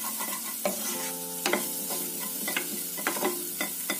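Garlic and spring onion sautéing in a pan with butter, a continuous sizzle with repeated scraping stirs of a spatula against the pan, close and alone.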